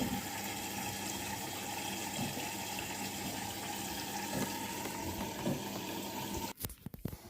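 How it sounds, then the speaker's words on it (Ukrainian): Steady rushing of water pouring into the drum of a Bosch Serie 4 WAN28280UA washing machine during a rinse, a constant hiss with faint clunks, ending in a few sharp knocks. "Води набрала багато, полоскання інтенсивне, всі речі мокрі"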